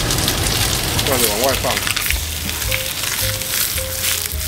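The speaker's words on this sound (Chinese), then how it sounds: "鸡皮把它煎到脆，通常需要4到5分钟的时间。" A chicken leg laid skin-side down in a hot oiled pan sizzles loudly and steadily up close, a bright crackling hiss that continues while someone talks over it.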